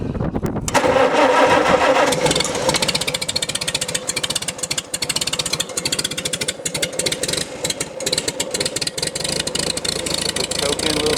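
A 1951 Farmall C tractor with points and condenser ignition cranks and catches, then settles into a loud, choppy, uneven idle close by.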